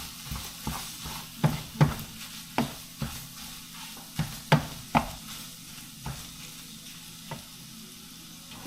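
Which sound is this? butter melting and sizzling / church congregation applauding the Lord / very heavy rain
butter melting and sizzling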